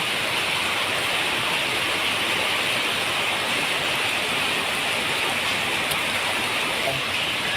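Steady rain pours down without a break, a dense, even hiss of drops striking surfaces, loud and close throughout with no voices.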